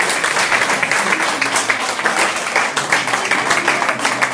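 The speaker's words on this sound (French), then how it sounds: "Applaudissements." Audience applause at a talent competition's selection round, loud, continuous, dense clapping from a crowd sustained throughout.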